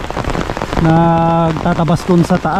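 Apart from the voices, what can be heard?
heavy rain falling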